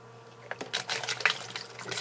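Water trickles from one bottle through a funnel into a second bottle, a soft, irregular run of gurgles and splashes at close range over a faint steady hum.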